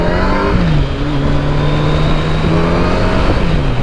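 A Honda ST1300 sport touring motorcycle engine runs loud and steady at close range. Its smooth tone rises in pitch and then holds, with a brief dip under a second in and a slight drop near the end.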